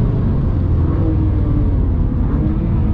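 A BMW M2 Competition on Michelin Cup 2 Connect tyres on a race track, its engine a loud, steady, close rumbling drone that holds continuously through the run.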